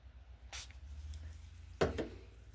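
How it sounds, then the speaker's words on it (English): Water spritzed from a spray bottle, two short hissing bursts about a second apart, quiet and close over a low background hum. "If I spray some water right there."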